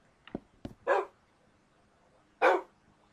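A dog gives a few short, soft yips followed by two louder barks spaced over a second apart, close and alone in a quiet room.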